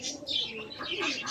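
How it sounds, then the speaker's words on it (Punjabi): Pigeons coo and chirp continuously nearby, a busy overlapping warble of calls with no voices over them. "ਸਾਰੇ ਕਬੂਤਰ ਉੱਡ ਗਏ"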